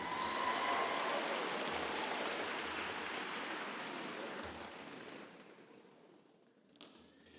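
A graduation audience claps in a dense, steady wash that slowly thins and fades out, ending with a single faint knock.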